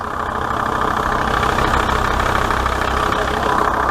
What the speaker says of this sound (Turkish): Düzgün bir şekilde aracımız çalışıyor